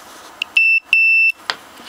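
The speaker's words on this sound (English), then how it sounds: "So it beeps when I go to short those out." Two short, sharp electronic beeps from a multimeter's diode test as probes are shorted, close and clear, with faint clicks around them and no talking.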